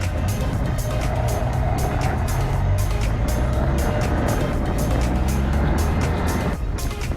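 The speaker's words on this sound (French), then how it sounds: "Les enchaînements de petits virages et la légère montée font vrombir le flat twin à chaque accélération" A flat-twin motorcycle engine drones and revs on a winding, slightly uphill road through tight bends, loud and close under heavy wind roar with rhythmic buffeting, continuing steadily throughout.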